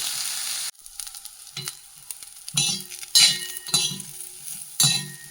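Tamarind and bitter gourd frying in oil for a Kerala pavakka podi give a steady close sizzle, broken by several stirring scrapes and light clinks of a spoon against the pan.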